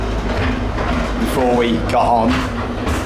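A safari train at a Bellewaerde amusement park rolls steadily on its rails through a station turnaround, a continuous low rumble and clatter beneath a person talking close by.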